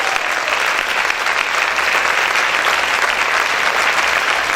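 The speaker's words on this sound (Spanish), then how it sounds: "¿Cuántos pueden aplaudir fuerte al Rey?" A church congregation claps loudly during a sermon, a dense and sustained roar of many hands that stays even throughout, with no clear talk on top.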